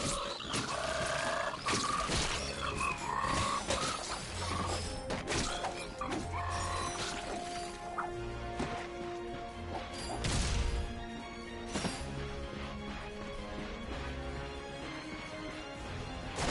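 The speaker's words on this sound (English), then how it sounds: "Look at him smashing crates." Repeated crashes and wooden smashes of crates breaking in Ratchet & Clank, mixed with busy effects and background music, loud and continuous.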